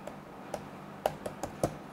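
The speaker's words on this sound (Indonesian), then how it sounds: "kalau lo ngetik tuh kayak ngetik di trampolin gitu" Keys tapped on a thin, bouncy laptop-style keyboard with a hollow underside, struck hard and one finger at a time; about six separate sharp clicks with uneven pauses between them, close and fairly quiet, and no one speaking.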